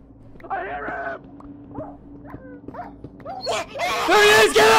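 A pet dog in the video game Minecraft yips, whimpers and barks in short, close bursts, growing louder toward the end, with game sounds behind.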